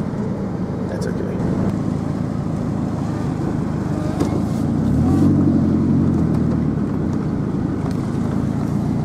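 A car drives down a city street, giving a steady low engine and road rumble that swells slightly midway, with faint voices under it.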